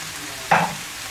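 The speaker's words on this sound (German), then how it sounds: "Aber da muss erstmal alles zusammen ein bisschen braten." Beef, rice and vegetables frying together in a pan for tomato rice, a brief burst of stirring and sizzling rising out of a low steady hiss, close and fairly quiet.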